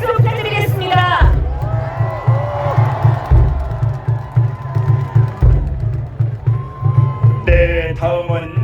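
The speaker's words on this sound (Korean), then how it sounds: "다시 한번 큰 박수 부탁드리겠습니다." A large outdoor crowd cheers and claps at a presidential candidate's final campaign rally in front of Seoul City Hall, a dense, loud roar of voices and whoops with low rhythmic booming underneath and an amplified voice over it.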